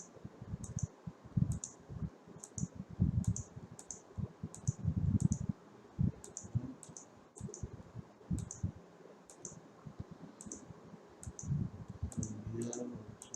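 A computer mouse clicks repeatedly while shapes are digitized in GIS mapping software, a steady series of crisp, close clicks at roughly regular intervals with soft handling noise underneath and no talking.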